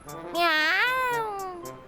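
A cartoon cat lets out one long, loud, wavering meow, with a brief voice heard around it.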